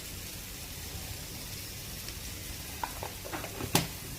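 Carrot pickle with mustard seeds, fennel, dried fenugreek, red chilli and mustard oil being stirred in a pan: a low steady sizzle, then a few light scrapes and clinks of the spoon toward the end.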